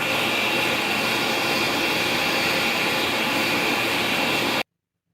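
A World Dryer Model XA hand dryer blows with a loud, steady roaring whoosh for several seconds, then cuts off abruptly into silence.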